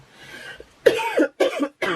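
A person coughs three times in quick succession, close and fairly loud, each cough short and harsh.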